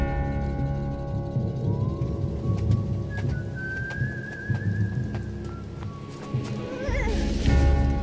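Horses close by, a loud neighing whinny over clip-clop hooves and rustling movement, set against a steady outdoor background.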